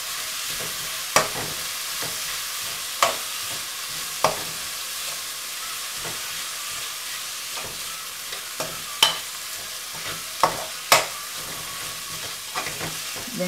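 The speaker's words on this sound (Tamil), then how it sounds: "வெங்காயத்தை ஆட் பண்ணிவிட்டு நல்லா வதக்கி விடணும்" Onions sauté in a pan for a crab pepper roast, hissing steadily while a spatula clicks against the pan now and then.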